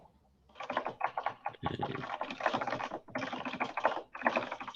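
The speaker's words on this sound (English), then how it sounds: "we can hear you typing. Sounds like a great keyboard" Rapid clacking on a computer keyboard comes in dense, close bursts separated by brief pauses, and someone speaks a single short word near the start.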